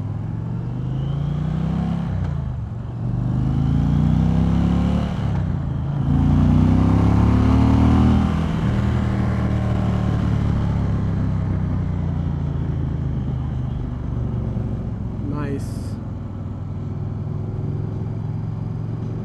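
A 2020 Indian Challenger Dark Horse motorcycle on a test ride in sport mode near Fredericksburg, Virginia, its engine loud and close, climbing through several gears with brief dips at each shift before a long steady cruise under rushing wind noise, with no talking.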